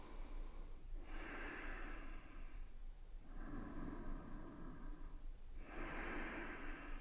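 Three slow, deep breaths during a yoga gate pose, each a long, close, airy inhale-exhale with a steady pause between them.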